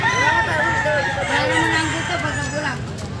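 A rooster crows with long rising and falling calls at a busy chicken market, loud and close, while people talk over it.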